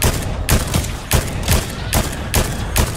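Shotgun blasts in a Fortnite Chapter 4 Season 1 match, a Dutch shotgun firing about eight loud, sharp reports at a fairly steady rhythm over constant background game noise.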